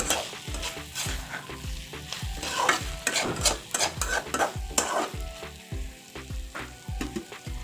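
A pan of food fries with a constant sizzle while a spoon or spatula scrapes and stirs it in a steady rhythm of repeated strokes, close and clear, with no talking.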